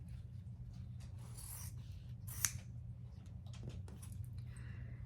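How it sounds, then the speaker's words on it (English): Scissors make a single quick, soft snip through sewing thread while piecing a scrappy star quilt, faint against a steady low hum in a quiet room. "when I cut the thread, I'll cut them apart"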